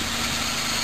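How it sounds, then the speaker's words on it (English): A Subaru Justy engine idles slightly high, a steady even hum and vibration with no audible knock, close and continuous. "Okay, engine knock sound test. Right now it's idling a little high."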